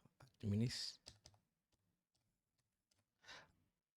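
Keys clicked on a computer keyboard in a quiet room, a quick burst of typing followed by a few scattered taps, with someone speaking briefly between them.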